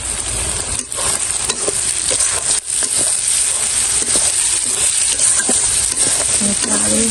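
Chopped onions fry loudly in a pan, a steady bright sizzle with scraping stirs and occasional clinks of the spoon, close up and without speech.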